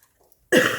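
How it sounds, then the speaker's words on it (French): After a moment of near silence, a single sharp, close cough bursts out loudly. "Excusez-moi, je tousse encore."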